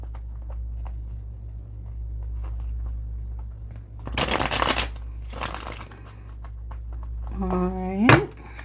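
Tarot del Fuego tarot cards are shuffled in two brief, loud riffling bursts at close range within an otherwise quiet room hum, with someone speaking briefly near the end.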